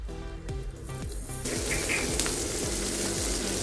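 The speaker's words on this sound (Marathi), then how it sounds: "यात आपण घालायचे लसूण बारीक चिरून." Chopped garlic dropped into butter and oil in a pan, giving a steady close sizzle and crackle that swells after a brief quieter start; no talking.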